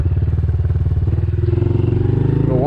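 A stock Honda CRF110 pit bike is ridden at wide-open throttle, its small single-cylinder engine buzzing loud and close in a rapid, steady pulse, with the pitch climbing near the end.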